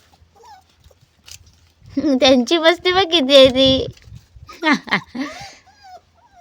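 Three small puppies whimper in a rising, high-pitched burst lasting about two seconds, followed by shorter whines, close by and mixed with people talking.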